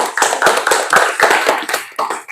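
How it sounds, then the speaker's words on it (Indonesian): A short burst of applause, a small group clapping unevenly for a couple of seconds, close and fairly loud, at a vocational high school. "ya, tepuk tangan"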